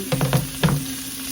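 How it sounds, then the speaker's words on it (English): Little sausages brown in a hot pan with a close sizzle, broken by a few quick scraping and clattering bursts as they are laid out and moved. "Now we are going to add all of our little sausages, and we are going to get them nice and brown."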